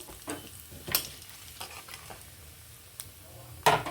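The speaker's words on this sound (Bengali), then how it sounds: "দুটো শুকনো লঙ্কা, কালো জিরা দিলাম" Dried red chillies and nigella seeds sizzling in leftover hot oil, a soft continuous fry with scattered sharp crackles and pops, close and moderately quiet.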